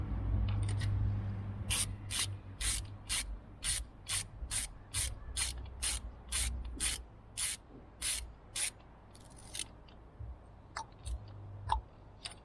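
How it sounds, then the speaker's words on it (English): A Parkside torque wrench tightens glow plugs in an engine during a glow plug replacement, giving a steady run of about fifteen sharp, evenly spaced ratchet clicks, then a few scattered clicks over a low background hum. "I'm going to grab my Parkside torque wrench."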